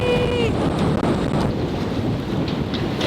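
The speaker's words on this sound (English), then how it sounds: "the wind is crazy. We're pushing 45 knots of wind." Strong wind of about 45 knots roars steadily into the microphone, a loud continuous buffeting rush with a brief whistling tone near the start.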